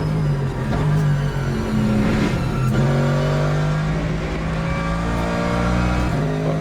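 A Mercedes GT3 race car engine in a sim racing game drones loud and continuous, revs climbing and falling through gear changes as the car works through a corner.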